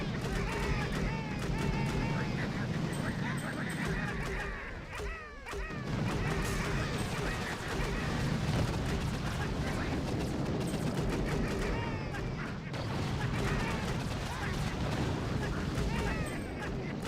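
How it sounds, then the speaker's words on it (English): Boom cannons firing in the mobile strategy game Boom Beach amid a dense battle, continuous overlapping booms and crashes forming a steady barrage, with someone talking over it. "Boom cannons."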